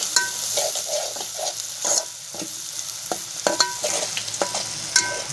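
Garam masala spice mix sizzles and fries in a hot pan, with a steady crackling hiss punctuated by repeated stirring scrapes and light clinks of a spoon against the pan, heard close up with no talking.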